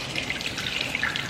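Water being squeezed by hand out of bitter gourd (ampalaya) in a home kitchen: a close, continuous light trickle and dribble with small splashy drips, steady for the whole moment and with no talking.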